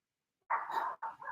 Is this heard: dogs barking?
yes